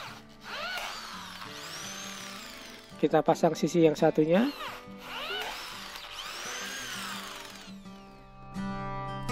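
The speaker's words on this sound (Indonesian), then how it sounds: "Kita bor menggunakan bor 4 mili dan kita pasang paku rivetnya." A power drill with a 4 mm bit bores through light steel framing for a refrigerator stand, giving a short, loud burst of pulsing whine in the middle while someone talks before and after.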